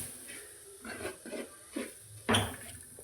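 Masala powder roasts in a pan while a spoon stirs it, making a few soft scraping strokes and a louder clink near the end, with no one talking.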